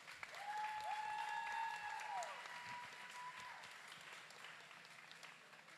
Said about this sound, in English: I want to hear the hands clap.